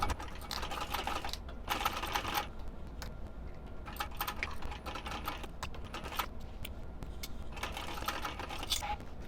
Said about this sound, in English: we're going to stitch across at 1/4 inch with a 1/4 inch seam allowance